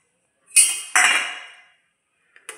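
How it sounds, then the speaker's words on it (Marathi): Metal spoon clinks and scrapes against a pot while mango pickle is stirred with salt and masala: two sharp, close strikes with ringing decay, then a faint tap near the end. "आणि हे मिश्रण मी छान एकजीव करते"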